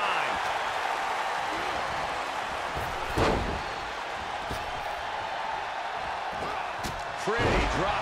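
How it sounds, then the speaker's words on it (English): Arena crowd in the WWE 2K24 wrestling game, a steady dense roar of cheering filling the building, with a couple of slams from the ring cutting through. "It is absolutely deafening in the building right now."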